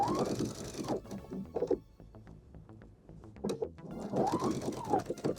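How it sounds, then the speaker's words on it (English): A sewing machine edge-stitches a pocket onto denim jeans, running in short bursts of rapid mechanical chatter, stopping briefly between runs and then starting again, close and moderately loud. "you're going to have your edge stitch all the way along the edge"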